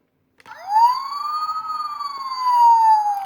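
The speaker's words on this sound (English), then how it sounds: "of course, we get sirens." A small electronic siren on a toy Transformers Optimus Prime fire engine winds up sharply and holds a wavering wail, thin and close, from a toy's speaker.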